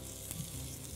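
Kofta fries in a hot pan with a spoonful of oil, a steady close sizzle that fills the brief moment without any voices.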